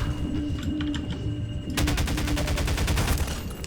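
Assault rifle fire in the video game Half-Life 2: loud, rapid automatic bursts, with a dense sustained stream of shots in the second half over game background noise.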